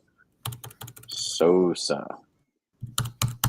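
Quick clacking keystrokes on a computer keyboard, broken by a short spoken phrase, then more rapid typing resumes after a pause.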